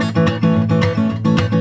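Hill country blues guitar strumming with the strings squeezed down and no left-hand muting, giving repeated full, ringing strums in a steady rhythm, close and loud with no talking.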